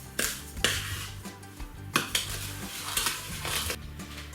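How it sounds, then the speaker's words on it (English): Repeated scraping and clinking of a utensil against a bowl, stirring dry chocolate cake ingredients in uneven strokes, close by with no voices. "And just stir this around."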